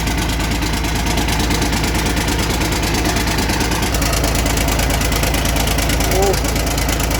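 Live recording of a P11C common-rail turbocharged diesel engine rated at 380 hp, running loud and close with a steady rapid knocking pulse and dense mechanical roar throughout, oil reportedly leaking from the exhaust.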